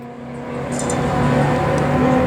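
A 4.6L modular Mustang with Bullet headers accelerates hard against an LS2 GTO at a racetrack, a loud steady engine drone building in volume as the car pulls through the run.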